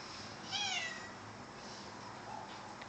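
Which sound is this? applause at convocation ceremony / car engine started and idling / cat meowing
cat meowing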